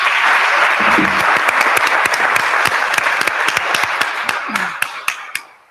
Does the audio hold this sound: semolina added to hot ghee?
no